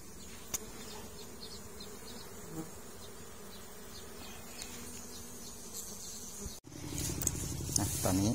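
Wild bees swarm around a nest near a stream, a steady close buzzing drone of many insects that continues throughout, getting louder and denser near the end.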